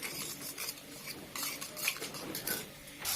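A spoon stirs turmeric, cumin and coriander powder into water in a bowl, making quiet, repeated clinks and scrapes of metal against the dish.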